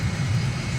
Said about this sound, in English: gears coming down now, we can hear it